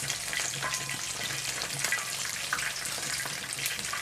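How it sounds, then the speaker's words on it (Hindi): Lahori fish coated in gram flour batter fries in oil with a loud, dense, continuous crackling sizzle that stays steady throughout, close up and with no voices. "ये देखें हमारी फ़िश भी तकरीबन फ्राई हो चुकी है"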